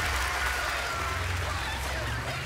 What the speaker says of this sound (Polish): brawa dla Napoleona.